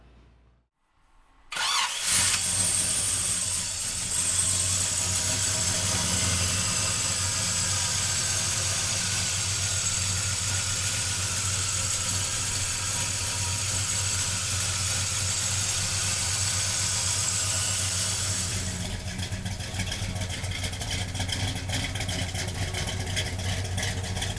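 A 1967 Chevrolet Chevelle upgraded to a big block with a 4-speed cranks and catches after a moment of quiet, then settles into a loud, steady, rumbling idle close by that eases slightly near the end, with no talk.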